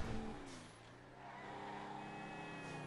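Car engine in GTA Online driving steadily with a low, continuous hum and a slight rev, heard close up and alone throughout.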